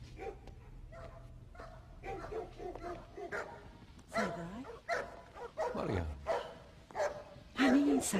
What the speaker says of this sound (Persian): سگا برای گرفتن رابینه؟